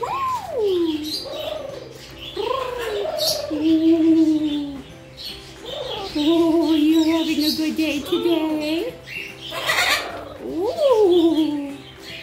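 A pet macaw calling indoors, a series of sliding, voice-like squawks and coos at close range, mixed with a person chatting to the bird.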